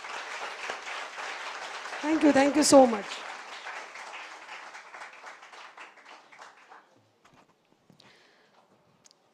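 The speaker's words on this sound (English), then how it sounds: "So I think even Sarang Lasurkar needs a big round of applause." An audience at a college function honoring a tabla player and flute artist breaks into applause that swells around the two-second mark and then fades away, with a speaker's voice heard over the clapping.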